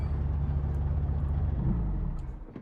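A low, rumbling video game car engine in Project Zomboid drones steadily with a rough, uneven, sputtering texture, close and continuous, fading slightly toward the end.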